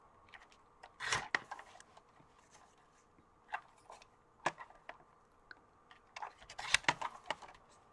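Scissors snip through paper pieces for a paper bag mini album, giving a few separate close, crisp cuts in quick clusters with quiet pauses between, no talking.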